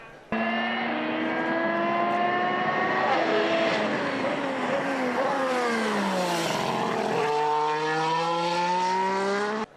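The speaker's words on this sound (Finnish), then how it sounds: "Uusien turbomoottoristen autojen äänistä on ollut paljon keskustelua ja tältä ne nyt kuulostavat." 2014 Formula 1 cars with new turbocharged engines running at Jerez winter testing, one continuous loud engine note rising and falling in pitch through gear changes as the car passes, heard alone with no talk.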